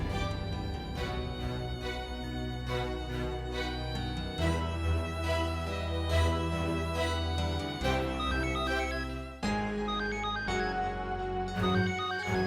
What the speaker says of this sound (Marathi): तृष्णा वहिनीचा फोन